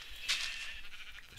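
A white sheep bleats briefly in a hardcore jungle survival video game, a single short nasal cry over quiet background.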